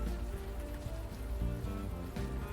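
Rain falling in the video game Unavowed, a steady soft patter on surfaces under a low hum of background music, no voices.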